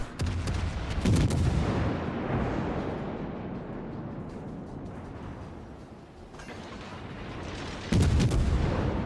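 Heavy booming naval gun salvos from a warship video game firing high-explosive shells, deep loud blasts at the start and end with a rumbling wash of battle noise between.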